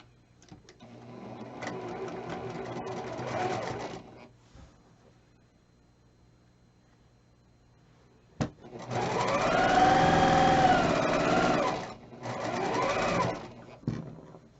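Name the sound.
sewing machine sewing quilt rows together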